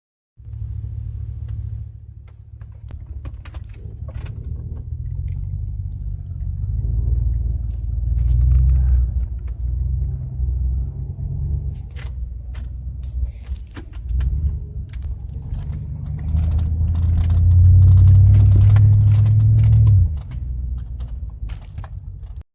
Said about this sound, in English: I like to get in a good takeoff just so that you can see how each gear goes in.